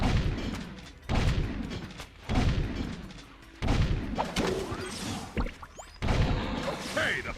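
Repeated heavy gunfire booms in a shootout, roughly evenly spaced and loud, each followed by a short decay, with voices in the background.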